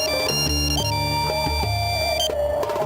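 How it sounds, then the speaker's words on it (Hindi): A phone ringtone plays a loud, continuous electronic melody of stepped tones in a Hindi film scene, with no voices over it. "तुलना का फोन था और मुझे बुलाया है, बहुत अर्जेंट काम है।"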